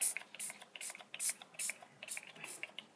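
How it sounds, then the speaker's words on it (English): Distress spray mists from a small pump spray bottle onto photo corners in a crafting setup, about eight quick hissing pumps in a steady rhythm, close and alone. "I'm just going to give these a spray"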